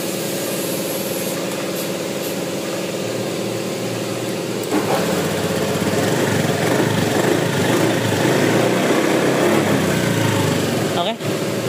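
A Honda Scoopy scooter engine with a newly fitted KZR injector starts partway through and settles into a steady close idle, with a brief rev near the end.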